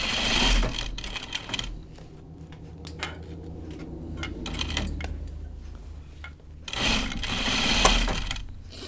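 A sewing machine stitches a seam in a steady run, its needle ticking and motor whirring, with louder bursts of stitching at the start and the end.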